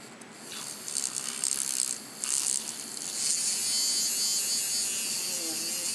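An airbrush paint mixer whirs with a thin, high electric buzz, stuttering in short bursts at first and then running steadily, fairly quiet and close.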